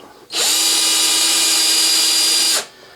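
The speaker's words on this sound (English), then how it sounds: "It's just the infamous black cordless drill." A black cordless drill spins the RCBS Trim Pro brass case trimmer with a 3-way cutter, giving one steady, loud, close whine of a little over two seconds that starts and stops abruptly, with no talking.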